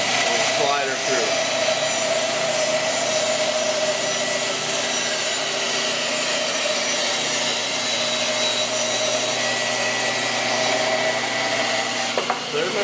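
A small table saw rips a thin veneer off the edge of a piece of wood, a steady loud blade whir running throughout, close and continuous with a brief startup at the beginning.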